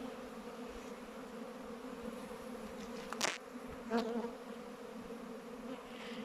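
Honeybees drone around an opened hive during autumn varroa treatment, a soft continuous hum with a couple of louder passes as single bees fly close, and no talk.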